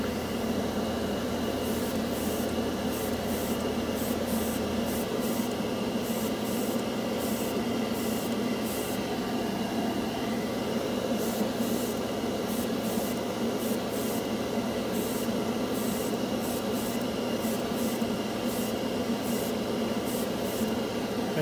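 An airbrush sprays candy-colour paint in a steady, continuous hiss that runs unbroken throughout, with faint rhythmic ticks on top. No one speaks.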